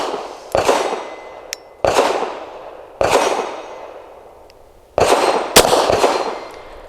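Shots fired from an Ermox X-fire gun outdoors, four loud sharp reports spaced a second or two apart, each with a long ringing decay and faint clicks between, close and without talking.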